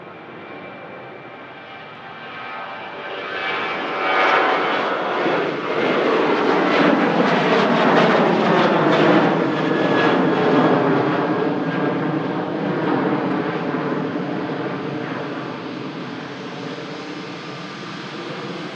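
An EasyJet Airbus A321neo jet comes in to land at Manchester Airport, its engine roar swelling after a few seconds into a loud, sustained rush before easing slightly, heard alone without talk.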